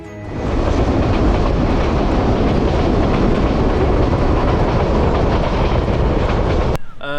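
The Cox's Bazar Express rumbles along the tracks in rain between Chittagong and Dhaka, a loud, steady roar with rhythmic clatter throughout, cutting off abruptly at the very end.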